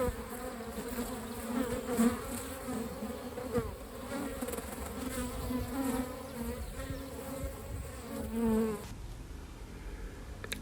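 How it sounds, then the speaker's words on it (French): Honey bees buzz steadily around three hive colonies on a warm spring day, a dense continuous drone close by that varies slightly in pitch, with a brief quieter patch near the end. "avec les belles températures, les abeilles sortent bien"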